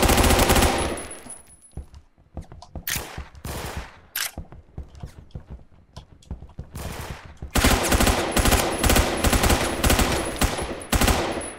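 Assault rifle fire in the video game Phantom Forces, loud close bursts of rapid automatic shots broken by short gaps, ending in a long sustained volley.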